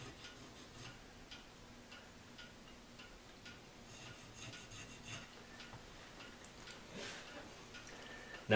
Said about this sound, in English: You take these machinist files, and I lay them down here, and I cut a little notch in there.